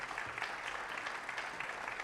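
An audience at a student-hosted Texas attorney general candidate debate applauds student government officers, a steady, fairly faint patter of clapping with no voices.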